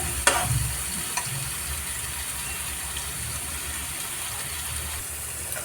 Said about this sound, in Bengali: তো এবার আমি ভালোভাবে কষিয়ে নিচ্ছি, যতক্ষণ না মশলাগুলো তেল ছাড়বে ততক্ষণ কষাতে হবে